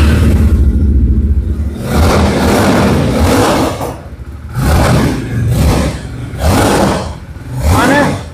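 A Yezdi motorcycle engine revs loudly at close range in about five separate bursts. Each throaty roar rises and falls, with short idle dips between them.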